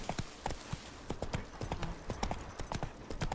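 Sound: horse Roach riding hooves in Witcher 3 video game

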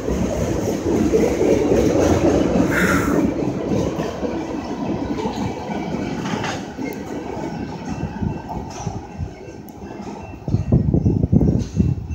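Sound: freight train passing during railfanning

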